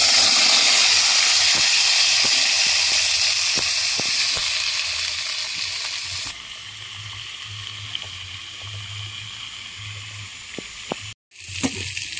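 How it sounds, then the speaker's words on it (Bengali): Potatoes frying in hot oil until reddish, a steady loud sizzle and hiss that fades a little partway through, with faint ticks and scrapes, then a brief drop to silence near the end. "এবারে কিন্তু এই আলুগুলো লাল লাল করে ভেজে নেব।"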